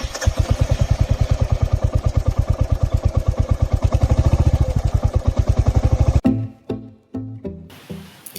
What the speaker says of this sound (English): Let's see one more time how exhaust note sounds like.